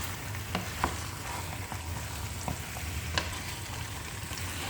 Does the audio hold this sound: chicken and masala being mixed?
yes